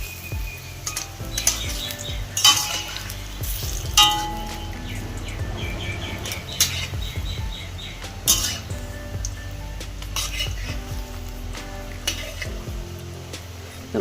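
Coriander (dhania) pakoras fry in hot oil and get turned over, a steady close sizzle with scraping stirs and a few sharp metal clinks of utensil on pan, no voices.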